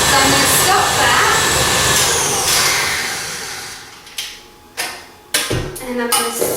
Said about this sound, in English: my butter, sugar and vanilla has been whisking for about 5 minutes now, so I'm going to stop that